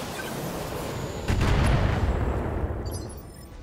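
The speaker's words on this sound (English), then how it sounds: "And fire her 30-round LRM barrage" An LRM missile barrage fires in the game BattleTech, a sudden loud rushing boom that swells from a steady background rumble and then slowly fades.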